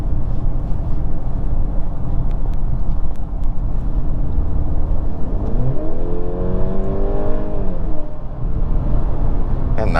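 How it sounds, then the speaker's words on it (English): A 2022 Mercedes C300 4matic with turbo and EQ electric boost accelerates hard from inside the cabin, the engine note climbing steadily over loud road roar, then dipping as the 9-speed gearbox shifts; no talking. "You can see the EQ boost is like a torque fill when the turbo is building up boost"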